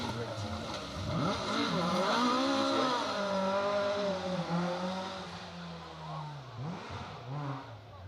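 A rally car's engine revs and climbs through rising and falling pitch sweeps at an asphalt rally stage start, moderately distant and sustained for several seconds, with a commentator speaking over it.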